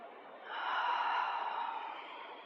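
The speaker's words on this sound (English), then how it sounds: "Maybe you start to hear your breath." A single long, soft exhale during a lower-body yoga class for runners, breathy and close, swelling and then fading away over a quiet background.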